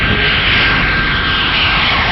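An F-94C Starfire jet of the US Air Force, flying near Cape Cod, Massachusetts, produces a loud, steady, close engine roar that fills the whole moment without pause or voices.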